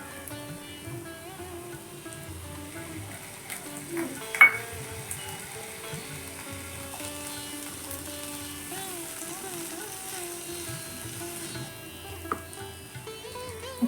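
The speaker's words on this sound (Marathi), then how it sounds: "आता या स्टेजला मी यामध्ये मटर घालते।" Green peas frying in a pan with spices for methi matar malai, a low steady sizzle running throughout with a brief clatter of stirring near the middle and another light knock toward the end.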